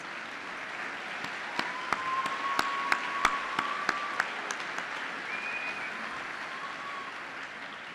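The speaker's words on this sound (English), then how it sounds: "Please join me now in acknowledging them with your applause" Audience applause at a 2017 spring university commencement ceremony, a steady wash of clapping filling a large hall at moderate level, with a few sharper claps and faint whistles or tones standing out.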